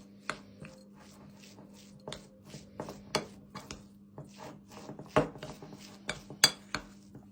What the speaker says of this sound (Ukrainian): Все перемішуємо.